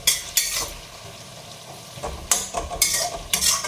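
Sabudana and potatoes fry in hot oil in a home kitchen, with a soft steady sizzle and several sharp scraping clinks of a spoon stirring against the pan, close up.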